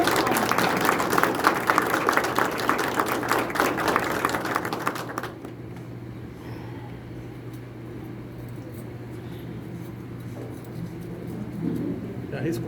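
An audience at a lecture in a spiritist centre claps for about five seconds, then the applause stops and a quiet room with faint murmuring remains.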